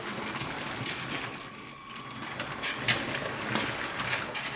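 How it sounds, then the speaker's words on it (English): A Lego City toy train rolls along its plastic track with a faint mechanical rattle and light clicks, quiet and steady, picking up a few sharper clacks near the end. "Here comes the train again"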